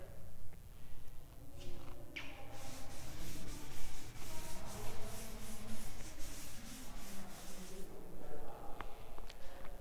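A board being rubbed clean during a maths lecture, close scratchy swishing strokes in repeated bursts that rise and fall, with some faint background voice.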